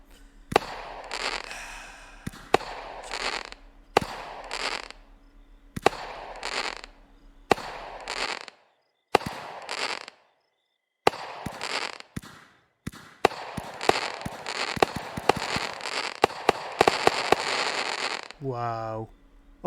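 Firework cakes in the video game Fireworks Mania burst in a long series of loud, crackling volleys separated by brief pauses. The shots pick up pace toward the end, with a final falling whistle, and a voice talks between the bursts.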